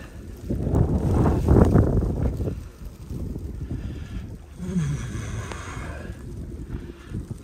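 Wind buffets the microphone outdoors during a cold snow storm in Washington near the White House, with strong rumbling gusts early that ease into a lighter, uneven rush.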